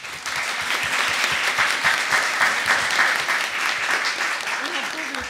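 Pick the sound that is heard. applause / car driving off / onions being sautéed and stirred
applause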